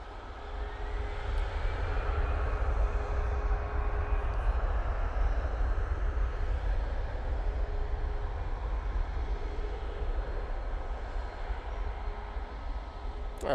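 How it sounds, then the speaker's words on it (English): An EasyJet airliner takes off from Manchester Airport for Alicante, a continuous, even jet-engine roar with a faint high whine that holds steady and moderately distant, with no one talking. "And this Easyjet off to Alicante."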